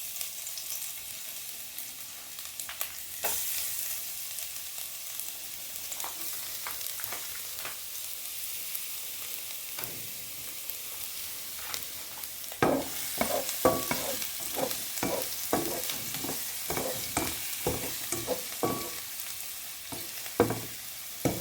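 Garlic sautés in hot oil in a pan for homemade chicken afritada, a constant sizzle at first, then a run of scraping stirs and knocks that grows busier in the second half.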